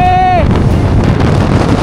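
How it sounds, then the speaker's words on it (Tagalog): Strong coastal wind at a beach in Pagudpud, Ilocos Norte roars into the microphone with heavy low rumbling buffets, after a brief high whistling tone at the start. "ano lakas ng hangin!"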